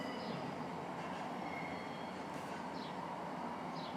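A train passes at a distance, a faint steady rumble with occasional brief high wheel squeals, and no talking.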